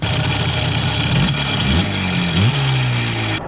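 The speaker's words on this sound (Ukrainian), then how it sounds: "А також мотор буде шуміти, коли він буде працювати на холостих обертах." An IZh motorcycle engine fitted with straight-cut primary gears idles noisily up close, a loud steady mechanical clatter with a couple of brief revs in the middle and no voices.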